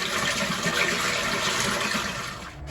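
Well water pours steadily into a tank, a continuous rushing gush that carries on evenly and then eases slightly near the end, with no voices.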